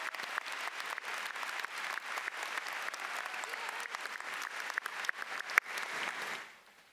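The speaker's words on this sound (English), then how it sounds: "please join me in giving a round of applause for all the adults that have supported you" Steady applause from a large crowd at a 2019 high school graduation ceremony, sustained and fairly distant, with a few sharper claps, fading out at the end.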